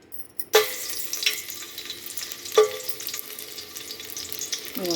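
Garlic dropped into about two tablespoons of hot oil for a mango sambar sets off a sudden loud sizzle, then a steady close crackling hiss with a few sharp pops and a fresh burst midway.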